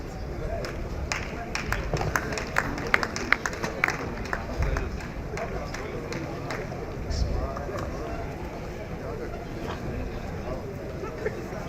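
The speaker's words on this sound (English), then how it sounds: "Another round of applause for her" Sustained applause fills a hall at a memorial lecture as an essay competition winner is honoured, dense irregular clapping carrying on steadily for several seconds with a voice audible beneath.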